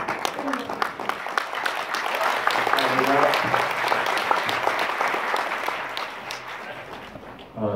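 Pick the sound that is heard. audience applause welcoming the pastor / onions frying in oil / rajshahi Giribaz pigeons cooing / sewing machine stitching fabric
audience applause welcoming the pastor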